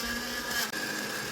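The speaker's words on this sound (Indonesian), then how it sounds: "Ini blender terus sampai tomatnya itu berubah menjadi jus." An electric blender whirs continuously as it purees tomatoes into juice, a bright steady motor whine with a brief dip in the middle, close and moderately loud.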